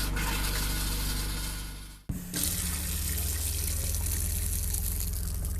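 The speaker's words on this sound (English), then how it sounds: "we should be getting water coming out of the hot water side of our sink here" Water runs from the hot side of an RV sink faucet in a Rockwood Mini Lite 2205S trailer during dewinterizing, a steady close rush that sputters briefly, cuts out, then resumes flowing.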